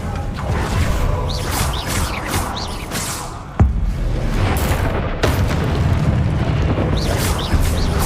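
Spell blasts from Expelliarmus casts in Hogwarts Legacy boom over dense, rumbling battle noise, with a sharp crack near the middle and another later on, loud and close throughout.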